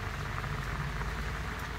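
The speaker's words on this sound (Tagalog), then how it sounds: "Umuulan." Steady rain hissing and pattering on a surface, a continuous even wash of sound with no voices.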